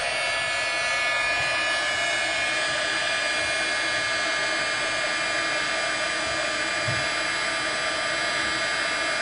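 A heat tool melts embossing powder on a handmade holiday card, giving a steady, loud blowing whir that runs unbroken from start to finish with no talking.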